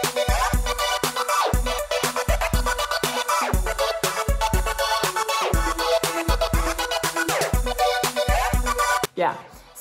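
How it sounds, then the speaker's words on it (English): A synth part split across four tracks, panned in different directions, chopped up and bounced back together, plays as a loud, rhythmic stream of stuttering bursts that cuts off abruptly near the end. "So what I did is I took that synth part, put it into four different tracks and panned them all in different directions."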